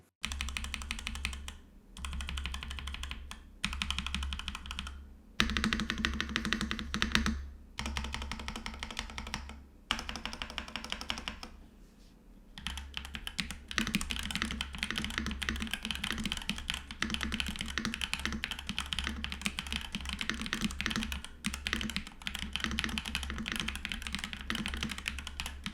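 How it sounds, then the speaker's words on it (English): Fast, continuous typing on a Monka Storm mechanical keyboard, close and clear: dense clacking keystrokes with a few short pauses, then a long unbroken run. "the keyboard is overall relatively basic in terms of sound profile, but it's best you hear that part for yourself"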